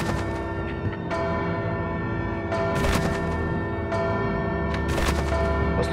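Bells ring repeatedly in the video game Bloodstained: Ritual of the Night, with sustained metallic tones layered under several sharp, loud clanging strikes at irregular intervals over a low rumbling game backdrop.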